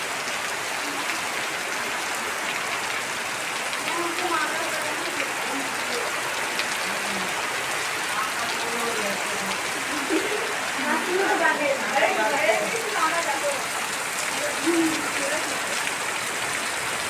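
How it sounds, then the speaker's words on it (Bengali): Heavy rain pours onto a road and a pond in a steady, dense hiss, with voices talking now and then over the downpour. "কতটা বৃষ্টি হচ্ছে দেখুন, রাস্তা, পুকুর।"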